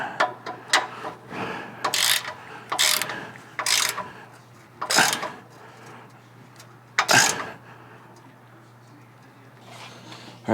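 A hand ratchet tightens the mount bolts for a Western snowplow on a 2024 Ford F-350 Super Duty, in separate bursts of close clicking strokes with pauses between them.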